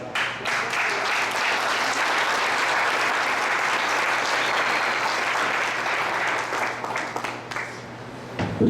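A congregation applauds the Lord at the close of a Portuguese-language church sermon, loud dense clapping sustained for several seconds before thinning out toward the end.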